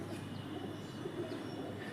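A pigeon coos softly at close range over a steady background hum, with low, rounded calls running through the full two seconds.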